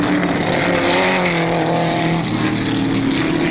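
Porsche 917 race cars battle nose to tail at Sebring in 1970, their engines loud and close in a sustained roar. The pitch wavers and drops as the cars pass.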